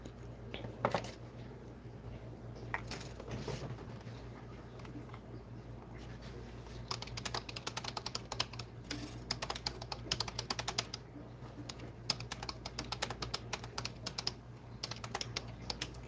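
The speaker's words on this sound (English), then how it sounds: "I'll type it." Steady typing on a computer keyboard, continuous close key clatter with denser bursts in the second half over a low constant hum, no talking.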